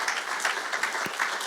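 A church congregation at a worship service breaks into steady, dense applause, many hands clapping together at moderate volume in a lively room.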